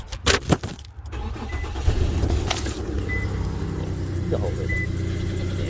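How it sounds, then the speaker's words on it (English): A car engine with an exhaust leak cranks and catches after a few sharp clicks, then idles with a steady, rough puffing rumble; a brief voice speaks early. "Okay, so the car started. You can hear the exhaust leak."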